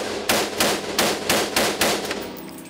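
Gunfire at an outdoor shooting range: six sharp, loud shots in an even, rapid rhythm about a third of a second apart, each ringing briefly, with no talking.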